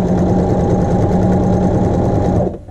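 A sewing machine runs a steady edge stitch on a double patch sample, a loud continuous whirring buzz with a fast even rhythm that stops abruptly near the end.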